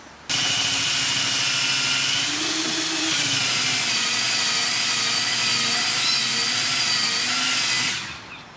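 A Ryobi 18V ONE+ battery-powered outdoor surface cleaner starts abruptly and runs at a steady high-pitched whine with a whirring rotor beneath, dipping briefly under load before spinning down at the end.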